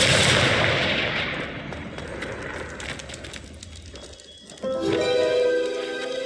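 Confringo fire spell cast in the Hogwarts Legacy video game, a loud burst of blasting, crackling game effects that fade and then flare again near the end, with faint voice beneath.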